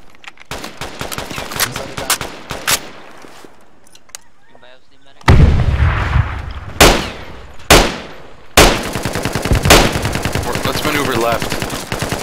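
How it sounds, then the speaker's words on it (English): AK rifle gunfire in the Project Reality military shooter, with long loud bursts of rapid automatic shots and a few heavier close blasts, some fire nearer and some more distant, and voices talking over it at times. "Watch behind you, just heard an AK."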